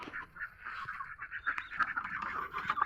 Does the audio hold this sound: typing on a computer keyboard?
no